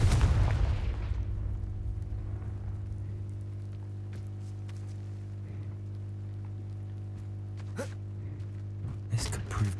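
A Confringo blast spell goes off in a wizarding video game with a loud, rumbling burst at the start that fades into a steady low hum, followed later by a few faint clicks and light impacts.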